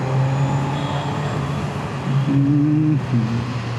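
A Kawasaki Z900 inline-three motorcycle engine drones steadily inside a tunnel, the enclosed space adding a hollow echo, with a brief pitch jump and drop as the rider downshifts, all loud and close.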